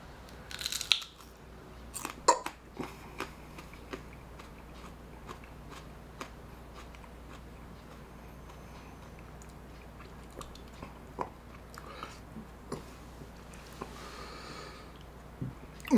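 Close-up biting and chewing of a crunchy Purple UFO hot pepper, sharp crisp crunches spaced through a quiet stretch of steady mastication, with occasional sniffs and no talk.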